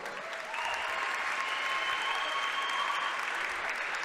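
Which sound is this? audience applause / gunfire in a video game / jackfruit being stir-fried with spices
audience applause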